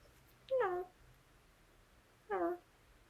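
A house cat meows twice, about two seconds apart, each call close and clear over a quiet room.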